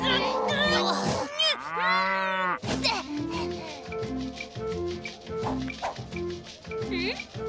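A cow moos loudly and drawn-out near the start, followed by rhythmic rubbing and clattering noises with a steady pulsing beat underneath.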